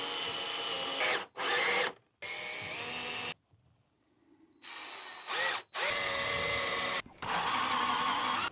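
A power drill bores a bolt hole in several loud, close bursts of whining motor and grinding bit, separated by short pauses and one longer gap of quiet.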